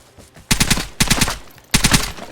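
A VSS rifle in the video game Vigor fires three quick bursts of rapid automatic shots. The sharp cracks are separated by brief gaps.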